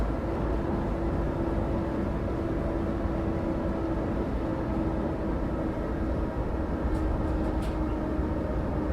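An empty freight train passes in Germany, a steady, continuous rumble with a sustained tonal hum that holds throughout, heard alone with no talking.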